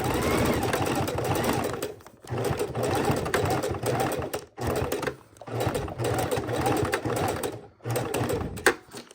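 A sewing machine stitches raw edge appliqué around an oval in several bursts of rapid chattering stitches separated by brief pauses, loud and close.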